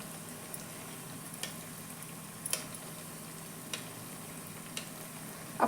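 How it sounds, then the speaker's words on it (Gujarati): Methi poha tikki shallow frying in oil on a pan over medium heat, a faint steady sizzle with a few soft ticks and pops scattered throughout. "હવે આને મીડિયમ આંચ પર આપણે 5-1 મિનિટ સુધી સેલો ફ્રાય થવા દઈશું."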